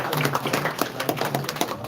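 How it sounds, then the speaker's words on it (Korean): A church congregation at an outdoor service claps to welcome guests, a brief burst of dense, even applause from many hands nearby. "박수로 환영하겠습니다."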